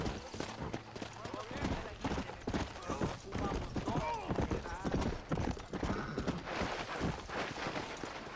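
Horse hooves clip-clop at a steady walking rhythm in the Red Dead Redemption video game, moderately loud and continuous beneath ongoing conversation between people talking throughout.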